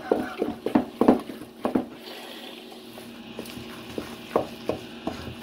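Muffin batter being mixed by hand with a spoon in a bowl, a series of soft, close scraping and stirring strokes in irregular bursts, pausing midway before a few more strokes.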